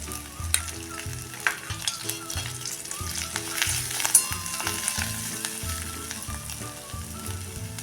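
Spices, ginger and garlic sizzle as they are sautéed with turmeric in a pan for jeera aloo, a steady frying hiss broken by rhythmic scraping thumps of a stirring spoon, close and with no talk.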